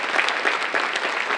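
Guests at the 9th Annual Phenix City Mayor's Ball break into applause, a loud, dense crowd clapping that stays steady and close across the brief moment without any voices.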